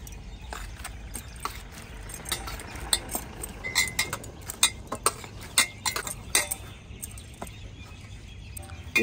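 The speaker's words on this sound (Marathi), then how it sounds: "दुसऱ्या पिठाच्या भागात आपण डाळिंबाचा रस घालूया आणि पीठ मळून घेऊया." Modak dough being kneaded with pomegranate juice by hand, giving soft squishing and slapping sounds with small clinks, in a fairly quiet irregular rhythm that grows busier midway.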